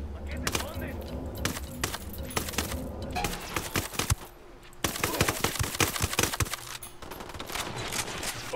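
Rapid bursts of gunfire from the video game Tom Clancy's Ghost Recon Wildlands, with dense automatic volleys and scattered single shots sounding loud and continuous throughout.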